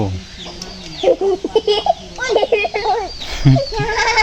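A goat bleats in short, wavering cries while a person calls and talks nearby.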